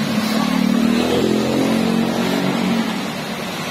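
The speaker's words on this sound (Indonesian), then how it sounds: "Ini kebetulan lapaknya di pinggir jalan banget, jadi banyak lalu lalang kendaraan," Busy roadside traffic passing a street stall, a loud continuous engine roar with a car or motorcycle revving up and droning by close at hand, steady throughout.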